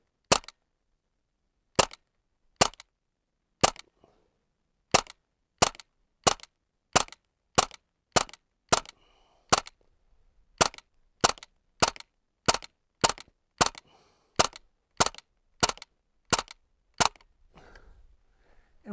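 Crosman AK1 full-auto BB rifle fired freehand with open sights, a long string of sharp, evenly spaced cracks in quick succession, close and loud, with no talking.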